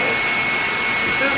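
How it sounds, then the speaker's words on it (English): A hooded hair dryer blows with a steady, loud whooshing hum and a faint high whine, unchanging throughout. "this other like hooded type of blow dryer"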